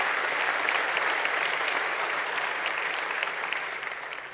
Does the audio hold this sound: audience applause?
yes